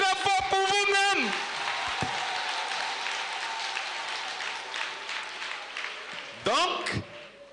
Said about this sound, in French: Acclamez très fort pour vous-même